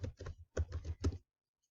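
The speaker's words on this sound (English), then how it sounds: "you're going to type in office.com" Someone types office.com into a browser address bar on a computer keyboard, giving about five quick, close clusters of key clacks over roughly a second before it falls silent.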